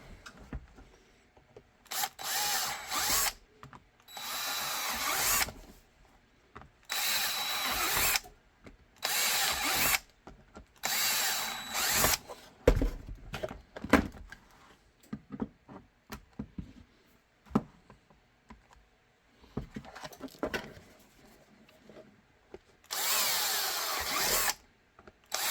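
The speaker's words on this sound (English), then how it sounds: "I'm going to use these holes as a guide and just drill them out" A power drill drills out holes through existing guide holes, loud close bursts of whirring and grinding repeated in an uneven stop-start rhythm, separated by short pauses with light handling clatter.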